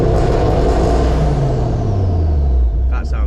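A Ford Focus ST fitted with a big turbo revs inside a tunnel, a loud booming low rumble that echoes off the walls, with the pitch sliding downward as the revs fall.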